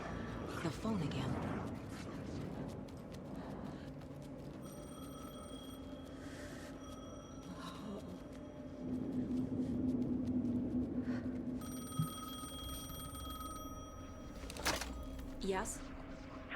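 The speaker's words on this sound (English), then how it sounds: "The phone again." Telephone ringing in a video game, two spaced bursts of a bright electronic ring with clear pauses between them, heard against a low background rumble and some speech.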